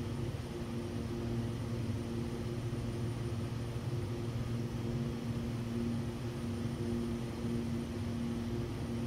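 Lancair Evolution aircraft engine in the X-Plane 12 flight simulator, a constant steady drone with low tonal hums under a broad airy roar, unchanging and alone throughout.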